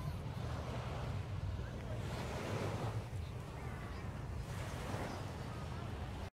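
Sea waves wash onto Sentosa beach in Singapore on a hot day, a steady broad surf roar with wind noise buffeting the microphone, continuous and close throughout with no clear talk.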